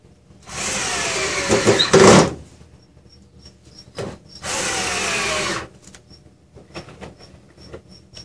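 A power drill drives screws into wooden boards being spliced together, with two loud whirring bursts of about a second each separated by quiet pauses and light handling knocks, close up and with no talking.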